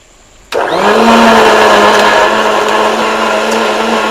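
A mixer grinder switches on abruptly after a short quiet moment and runs loud and close with a steady high whine while it grinds cooled spices into a paste.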